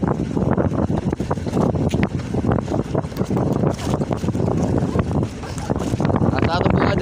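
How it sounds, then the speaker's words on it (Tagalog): Strong wind roars and buffets the microphone continuously on a boat at sea during giant squid fishing, with a rushing, gusty rumble; voices speak underneath the noise. "Lakas ng hangin."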